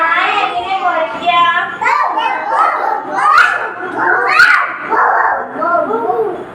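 Children's voices imitate a dog barking, making loud, close, repeated yelping woof-like calls with lively playful chatter mixed in across the whole stretch.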